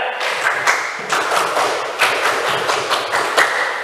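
A group of teachers at a school session performs a rhythmic spirit clap, sharp claps falling in a patterned sequence of accented beats and short runs, fairly close and clear with no talk over it.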